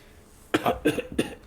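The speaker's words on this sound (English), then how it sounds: "He coughs." A man coughs three times in quick succession, close and moderately loud, after a brief quiet moment.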